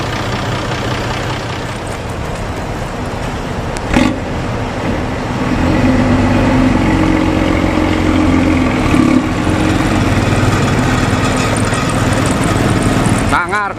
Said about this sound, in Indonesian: Sangar knalpot ngorok